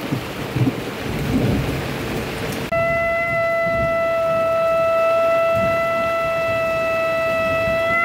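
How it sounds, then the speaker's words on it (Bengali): Dense rain and thunder from Cyclone Remal roar loudly at first, then a long, steady conch-shell blast rings out over the continuing downpour. "দেখছো যাতে একটু বৃষ্টি কম হয়, বা যে বিদ্যুৎ চমকাচ্ছে আকাশের এগুলো কম হয়"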